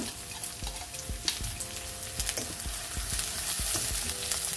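Chopped garlic, ginger, green chili and curry leaves sizzle in hot oil, a soft continuous crackle marked by repeated low thuds and scrapes of stirring, quiet and near, with no one talking.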